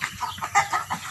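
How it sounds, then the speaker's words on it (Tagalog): Chickens clucking busily at afternoon feeding time as prepared corn is given to them; a close cluster of short, overlapping clucks and calls in quick succession. "So magpapakain naman sila ng manok."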